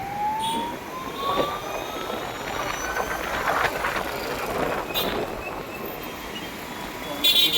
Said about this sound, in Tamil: பயங்கர டிராஃபிக்காக இருக்குது.